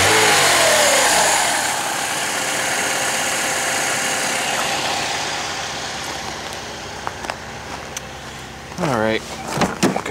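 A Chevrolet Malibu Classic engine hums steadily nearby, loud at first then settling lower, with a voice speaking briefly over it near the end.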